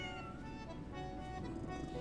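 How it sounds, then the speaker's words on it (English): A cat in the video game Lies of P gives a soft, drawn-out meow over quiet background music. "We can sit and pet the kitty."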